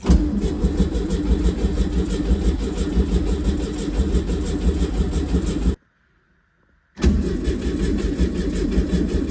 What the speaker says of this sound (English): So it's time to turn the ignition on, turn it over and wait for that green light to go out.